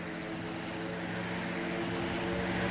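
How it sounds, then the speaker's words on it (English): A propeller plane drones steadily overhead in the survival game Rust, a constant engine hum that grows slightly louder over a few seconds with no speech. "Sounds suspiciously like a plane."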